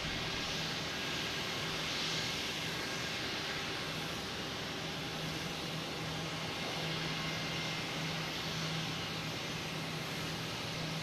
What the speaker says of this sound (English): We got a JetBlue pulling into the alley here